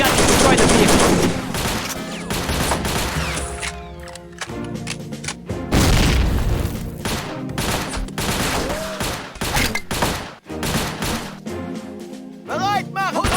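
Bazooka shots and explosions in the Faces of War video game, a dense, loud barrage of booming blasts and rattling gunfire overlapping with crashes, with no pause.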